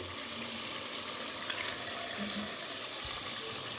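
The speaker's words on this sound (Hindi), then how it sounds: "अब इसमें हम लेंगे लहसुन वाला पानी, लहसुन और पानी मिक्स" Garlic-infused water pours steadily into a cooking pot for chhab kadhi, a continuous splashing rush that lasts throughout, fairly close, with no talking.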